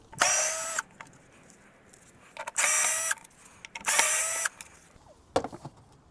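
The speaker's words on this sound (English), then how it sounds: "Without unplugging it, we should be able to just unscrew here. There's 4 screws." Power screwdriver driving out the four screws holding the ECU in a crashed Mercedes CLA. Three sustained whirring bursts come close and loud with short pauses between them, then a final brief burst, and no one talks.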